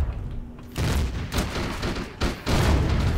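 Turret fire in the space survival game Empyrion during a base invasion: heavy booming gunfire bursts that start abruptly and hit in loud repeated volleys, with a brief lull before a second strong barrage, no voices.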